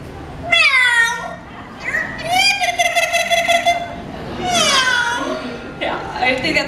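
A parrot mimics a cat's meow several times at a live bird show, drawn-out whiny mews with a squeaky tone, close and clear, with brief pauses between calls.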